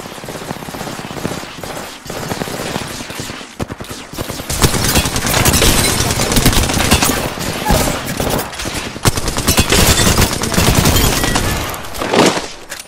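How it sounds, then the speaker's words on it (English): Sustained automatic gunfire in Apex Legends, dense bursts of rapid shots from several weapons crackling almost continuously at loud volume, with brief gaps and explosive booms between volleys. "Listen up, I'm getting shot at."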